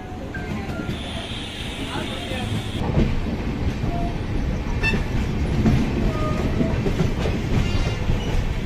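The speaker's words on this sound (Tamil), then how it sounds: "திருச்சிராப்பள்ளி ஜங்ஷனில் இருந்து நம்மளோட ட்ரெயின் எடுத்தாச்சு" Antyodaya Express pulling out of Tiruchirappalli Junction, wheels rolling with a steady clatter and rumble that grows louder after a few seconds, close by, with a faint horn-like tone early and voices mixed in.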